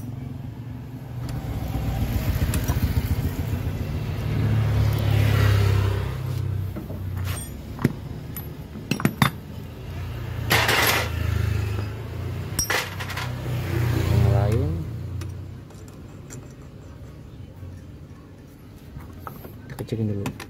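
A rough-running motorcycle engine with a dynamo starter idles and revs unevenly, making a harsh, robot-like mechanical rattle that swells and fades under intermittent talk, with a few sharp clicks.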